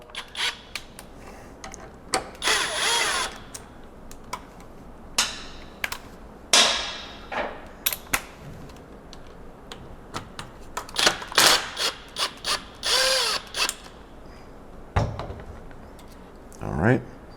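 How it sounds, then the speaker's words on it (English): A brushless impact wrench working on an MV Agusta F3 800 motorcycle, sounding in several sharp rattling bursts mixed with metallic clanks and tool handling, close and loud, with intermittent bangs across the stretch. "This brushless impact wrench may come in handy for you as well."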